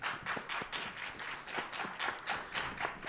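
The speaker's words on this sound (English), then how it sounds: "Please give everyone a round of applause," A small audience at a student election debate gives a short, fairly quiet round of clapping, with irregular individual claps and no voices.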